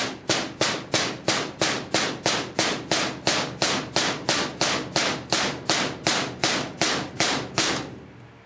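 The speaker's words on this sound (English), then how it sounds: "and then you just hammer it on in" Rapid, evenly spaced metallic hammer blows, about three per second, strike steadily and loudly up close for several seconds while fitting a part onto a Savage 69RXL rifle.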